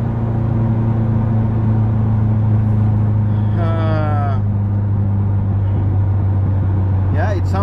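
A turbocharged Mitsubishi Eclipse 2G engine on Speeduino engine management runs under about 12 psi of boost, a loud, steady, droning hum heard from inside the car, with a muffled voice briefly audible over it.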